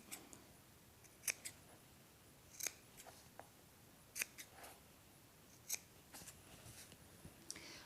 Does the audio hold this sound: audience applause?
no